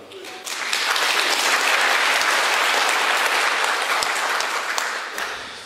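An audience in a church claps after a song at a concert, sustained loud applause that swells quickly, holds steady for several seconds, then tapers slightly at the end.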